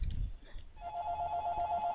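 A work phone rings with a steady repeating electronic tone that starts partway through and continues to the end, fairly loud and close, with a brief burst of low rumble at the start.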